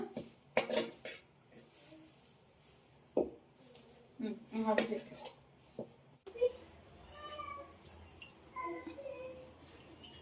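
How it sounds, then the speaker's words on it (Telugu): Green chillies and gongura leaves are pounded in a stone mortar in a home kitchen. Irregular knocking thuds and clatters come up close, with someone talking between and over the strikes. "ఇప్పుడైతే గోంగూర వేసుకొని దంచేస్తాను"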